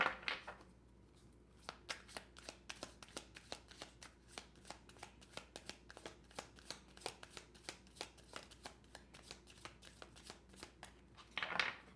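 Tarot cards shuffled over and over, a long run of quick, papery snaps in a steady rhythm, soft and close, with a short breathy rustle at the start and end.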